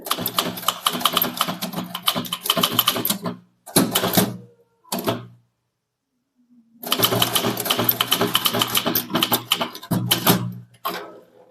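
Manual typewriter keys clatter in quick bursts during a Tamil typewriting lesson, with short pauses and a silent gap midway before steady typing resumes, close and fairly loud.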